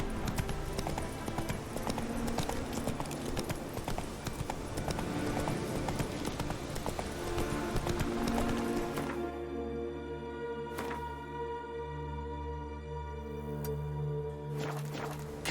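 A horse gallops in The Witcher 3, its hooves drumming in a rapid, continuous clip-clop rhythm that settles into a slower, quieter gait partway through.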